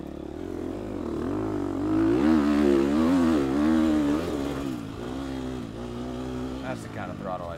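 A Gas Gas EX250F four-stroke dirt bike revs and shifts through a harescramble race lap, its engine note climbing and falling in waves from the rider's own position, steady and fairly loud.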